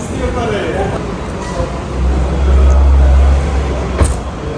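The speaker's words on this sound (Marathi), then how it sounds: "कार आलेले आहे" A car pulls up nearby, its low engine rumble swelling and peaking partway through, then settling over constant background noise.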